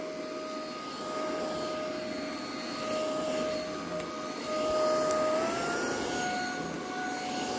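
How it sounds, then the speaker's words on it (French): An Ultenic U12 Vesla vacuum cleaner runs close by with a loud, steady airy roar and a high whine that shifts pitch partway through, with no voices. "On va passer un petit coup d'aspirateur."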